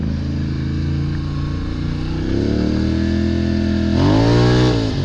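A loud ATV engine with a clutch kit and dual HMF performance exhaust revs up steadily, its pitch rising and falling with throttle, a throaty exhaust roar close by.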